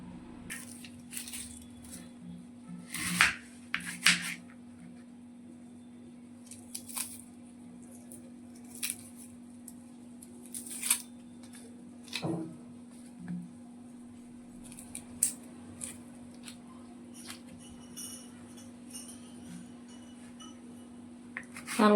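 A knife slices okra lengthwise on a cutting surface with sparse, soft taps and crunchy cuts, separated by quiet gaps, against a faint steady hum.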